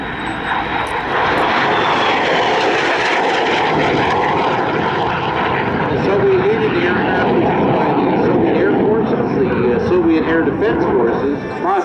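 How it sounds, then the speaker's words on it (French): A fixed-wing aircraft makes a high-speed low pass a few feet above the runway at an airshow, its loud propeller and engine roar sweeping past and sustained throughout, with an announcer speaking over it. "Passage haute vitesse maintenant de votre droite à quelques pieds au-dessus de la piste."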